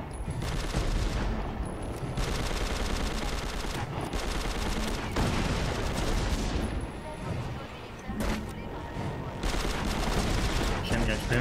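Dense bursts of gunfire and fusillades hammer at the player in Prototype 2, a third-person action game on hard difficulty, loud and nearly continuous across the clip with brief lulls.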